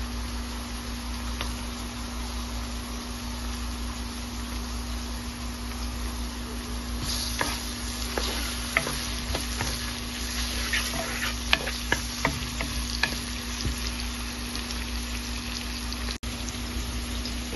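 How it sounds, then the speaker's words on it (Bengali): Coarsely cut garlic fries in hot oil in a pan for a prawn and kalmi shak (water spinach) dish, a steady close sizzle with scattered pops and intermittent stirring scrapes, no voices. "এটাকে একটু ভেজে নিব, আমি রসুনটাও দিয়ে দিচ্ছি"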